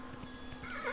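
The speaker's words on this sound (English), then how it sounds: "our horse, when he's neighing like that on us, it just means that I've made him run too much and he's just tired" A horse in the video game Kingdom New Lands, tired from running too much, whinnies in a rising, wavering call that swells louder toward the end over a steady low hum and soft hoof-like thuds.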